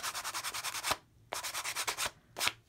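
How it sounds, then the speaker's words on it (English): Sandpaper rubbed back and forth along the edge of a matted photo card: quick, even scratchy strokes in three short runs separated by brief pauses, close and clear with no talk. "just use that sandpaper and smooth them out"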